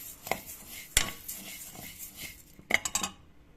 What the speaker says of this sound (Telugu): ఇలా జాగ్రత్తగా వేయించుకోవాలి.